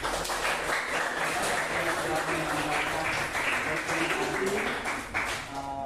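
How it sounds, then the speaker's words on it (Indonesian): A classroom audience gives sustained applause for a student, a continuous dense clapping that stays loud throughout, with voices mixed in. "Sekali lagi mari kita berikan aplaus ya"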